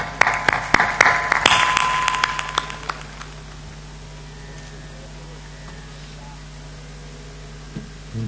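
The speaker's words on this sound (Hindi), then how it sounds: "ताली बजाइए एक बार।" An audience at a spiritual talk bursts into dense applause that swells loud for about three seconds, then fades away, leaving a quiet room with a steady hum.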